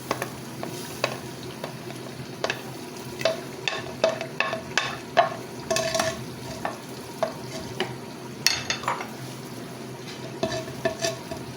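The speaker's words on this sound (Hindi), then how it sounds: "चलिए अब इसको थोड़ा सा हम भूनेंगे गोश्त के साथ" Taro (arbi) pieces frying with mutton in ghee, a continuous sizzle broken by irregular spoon scrapes and clinks against the pot, close and moderately loud with no speech.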